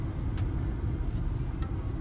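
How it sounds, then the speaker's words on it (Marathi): A car rolling into a parking spot, its engine a steady, muffled low rumble heard from close by, with faint light ticks on top and no voices. "फायनली पोहोचलोय आणि गाडी पार्क करतो"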